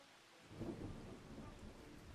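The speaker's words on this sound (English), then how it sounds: "welcome to June, and it is raining" In-game rain and a rumbling roll of thunder in Farming Simulator 25, a faint steady patter of rain with a low thunder rumble swelling in after a moment and lingering quietly.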